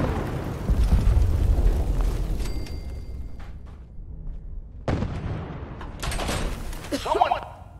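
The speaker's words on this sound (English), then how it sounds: "Who doesn't love a good explosion?" Explosions in the virtual-reality game Fallout 4 VR: a loud, rumbling blast fills the opening seconds and decays, followed by a second sharp burst and crackling debris about five seconds in.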